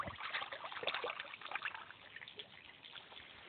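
A Spyderco Pacific Salt knife is rinsed under running water, making a soft, continuous splashing trickle that is close but quiet.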